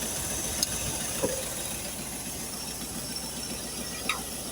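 A small carburetor engine with an exhaust leak idles steadily after a carburetor rebuild, with a rough, even rumble and a constant hiss, with a few faint ticks on top.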